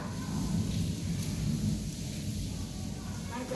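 Heavy monsoon-style rain pours steadily with a deep, continuous rumble of thunder beneath it, a dense wash of noise throughout, with a voice faintly audible under the downpour.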